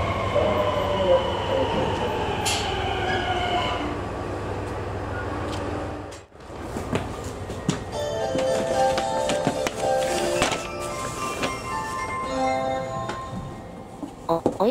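A sleeper train rolls into a Japanese station with a steady mechanical rumble and tonal whine, briefly dropping off before clattering and squealing resumes close by, with faint station noise around.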